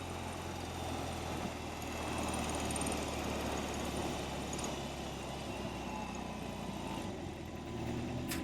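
A BMW R18 cruiser motorcycle's large engine idling with the clutch pulled in, giving a steady low, lumpy rumble heard close and continuous throughout.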